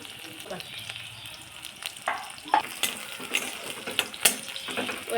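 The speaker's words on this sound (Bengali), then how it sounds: "রসুনগুলো ভালোভাবে লাল লাল করে ভেজে নিতে হবে" Garlic cloves fry in hot oil with five-spice seeds, a soft steady sizzle broken by sharp crackles and a few light utensil clinks.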